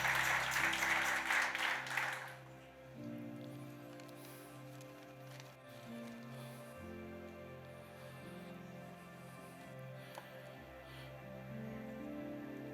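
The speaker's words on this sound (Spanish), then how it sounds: "Si le va a aplaudir, apláudale" A church congregation applauds during a sermon, a dense burst of clapping at the start that fades after a couple of seconds into a low, sustained organ-like musical backdrop.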